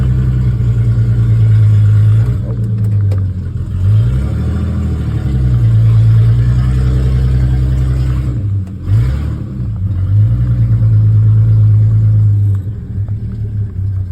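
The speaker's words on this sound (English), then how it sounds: "She's starting to idle now, which is cool." A 1946 Hudson car's engine idling on a salty winter road, a loud low steady rumble with a few brief revs rising and settling back, close and alone without speech.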